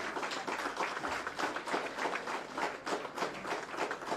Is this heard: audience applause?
yes